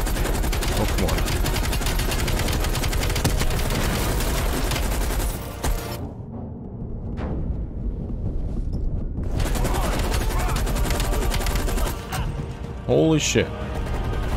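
Rapid, dense automatic gunfire from Call of Duty: Black Ops Cold War gameplay rattles loudly for most of the span, breaking off briefly in the middle before resuming, with a man's startled exclamation near the end.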